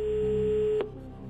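A telephone line tone sounds on a TV quiz show as a call is placed, a steady electronic tone that cuts off abruptly partway through, leaving a quieter hum.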